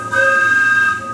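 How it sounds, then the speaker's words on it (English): A steamboat whistle sounds at a music museum, a steady tonal blast with bright harmonics holding for about a second, fairly loud and close with no talking over it. "a steamboat whistle,"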